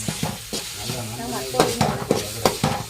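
Food fries in hot oil with a steady sizzle, broken by several sharp scraping stirs of a spatula in the pan, close by.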